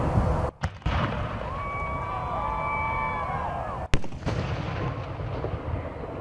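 Memorial fireworks charges fired into the sky at an outdoor ceremony, with sharp booming reports at the start and again midway, separated by a sustained rushing, crackling roar, loud and fairly close.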